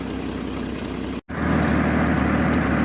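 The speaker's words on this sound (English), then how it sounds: "she seems to be idling just fine" A 1964 Chevelle engine idles with an even low rumble, broken by one brief dropout before settling back into a slightly louder, smooth idle.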